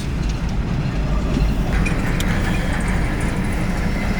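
A long CSX freight train rumbles past on the Bone Valley line, a loud continuous roar of rolling wagons with faint wheel clicks and occasional squeals over the low drone.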